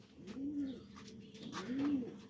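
Two soft, low coos from domestic pigeons kept at home, each a rising-falling call heard close and fairly quiet against a faint room background.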